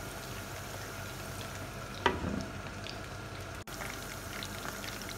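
Chicken drumsticks for a Chinese-style dish fry in hot oil toward golden brown, a soft, steady sizzle with a brief clatter partway through and no voices.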